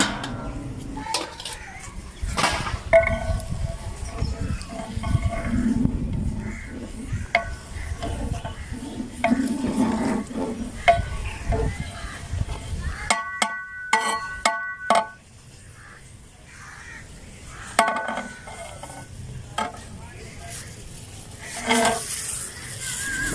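Chicken, capsicum and carrots stir-fried in a pan, with repeated clanking and scraping of a metal spatula against the pan over a low sizzle, steady and close, pausing briefly midway.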